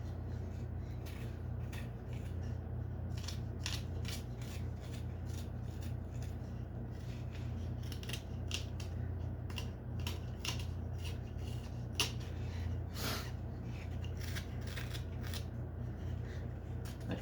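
An X-Acto knife carves small wooden Christmas trees in a home shop, giving a string of short, crisp scraping and snicking cuts over a steady low hum, with no one talking.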